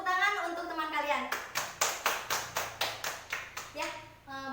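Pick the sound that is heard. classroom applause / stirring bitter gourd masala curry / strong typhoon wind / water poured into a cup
classroom applause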